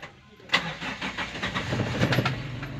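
A car engine cranks and catches after several failed tries, then settles into a steady idle. The start begins with a sharp burst, and the running engine sounds fairly close.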